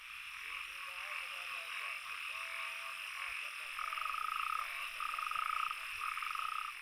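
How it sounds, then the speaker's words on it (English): Natterjack toads croak in a chorus of rapid, rattling trills, with repeated pulsed bursts rising out of a constant background din of other calling amphibians and insects. "natterjack toads show their good manners, especially when they have a date with the ladies."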